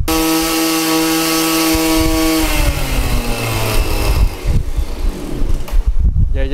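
A small gasoline engine on a garden power tool idling steadily, then sputtering and surging unevenly as it runs out of fuel, loud and close, before dying away.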